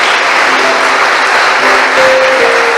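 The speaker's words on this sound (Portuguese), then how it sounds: "Você pode aplaudir a palavra do Pai?" A church congregation claps together in a steady, full burst of applause, close and loud throughout, with faint tonal sustain from an instrument underneath and no talking.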